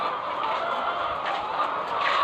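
Several egg-laying hens cluck continuously close by on a farm, a busy overlapping chorus with no talking.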